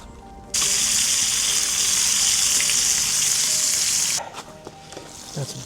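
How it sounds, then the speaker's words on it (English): Bacon hits a hot pan on a camp stove during winter camping and bursts into a loud, steady sizzle that holds for several seconds, then abruptly drops to faint crackles and small clatters. "I'm getting ready to put the bacon on"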